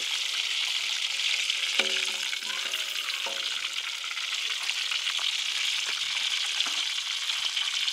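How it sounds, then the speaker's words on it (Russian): Potatoes fry in vegetable oil in a kazan while preparing Tashkent-style kazan kabob with meat, a dense steady sizzle and crackle filling the whole stretch close up, with a few brief clinks of a utensil early on. "Это картофель обжаривает, да?"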